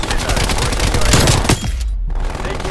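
Turret gunfire in Call of Duty: Black Ops Cold War multiplayer, a loud, dense stream of automatic shots that drops away abruptly into a brief silence before more firing resumes.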